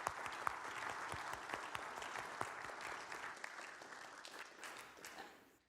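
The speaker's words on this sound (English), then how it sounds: "Give a round of applause." An audience applauds after an author is introduced at a talk. The clapping is quiet and distant, holds a steady level with a few sharper individual claps, and fades out at the end.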